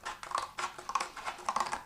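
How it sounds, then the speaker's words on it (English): Scissors cut into a thin plastic bottle with a quick run of faint, crisp snips and crinkles, close by and with no talking. "it's a case of very carefully using your scissors"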